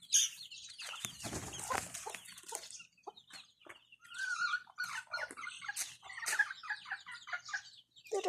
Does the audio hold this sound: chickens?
yes